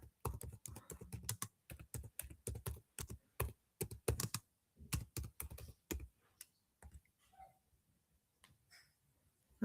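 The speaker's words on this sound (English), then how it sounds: "I'm typing that." Rapid clattering keystrokes on a computer keyboard, close and fairly faint, in dense bursts for about six seconds, then sparser isolated taps trailing off.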